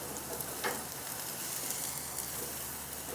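A steak sears on a hot infrared grill with a loud, steady sizzle and crackle, close up and continuous, with no talking.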